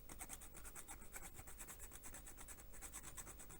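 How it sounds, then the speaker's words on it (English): A coarse hand file rasps across a soldered bearing on a model locomotive kit chassis: quick, steady back-and-forth strokes, close and clear, with no voices. "Fairly coarse file to begin with."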